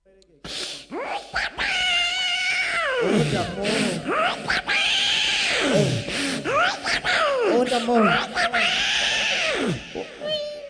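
A mimicry artist on a comedy stage imitates a cat giving birth with a voice, drawn-out strained meows and wails rising and falling in repeated loud bursts, with gasps between them.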